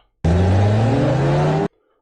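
A BMW car engine revs once, loud and close, rising in pitch over about a second and a half before cutting off abruptly.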